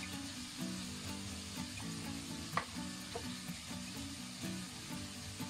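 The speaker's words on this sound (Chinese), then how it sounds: "快速的翻炒均匀" Green pepper pieces sizzle in a hot wok as they are stir-fried, a steady crackling hiss with scraping stirs and one sharp clatter, quiet and close with nobody talking.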